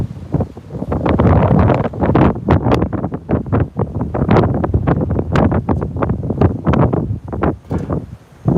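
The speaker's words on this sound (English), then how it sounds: "the wind is whipping out kind of loudly here" Category 4 Hurricane Laura whips wind through Lake Charles, Louisiana, in loud, surging gusts that pound the microphone in rapid, uneven bursts with no let-up.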